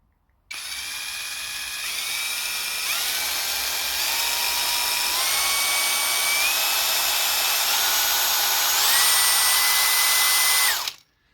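A Parkside PPAGHS 20 LI A1 cordless drill runs steadily in second gear, a close, continuous high whine that holds for about ten seconds, its pitch stepping up a few times and ending abruptly.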